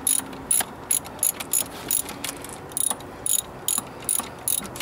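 Ratchet with an extension turning a nut on a truck's EGR valve, a series of quick clicking bursts in an irregular rhythm, close and fairly loud with a faint background hum.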